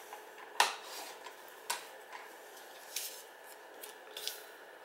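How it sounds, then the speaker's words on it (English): A paper trimmer cuts scrap paper with a few sharp, separate snips spaced about a second apart against a quiet background, close but not loud. "Sometimes this trimmer seems to act a little funny."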